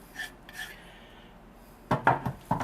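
A utensil stirs crispy chopped bacon into a keto chipotle pepper popper mixture, with a few soft scrapes early on and then several close clinking, scraping strokes against the bowl.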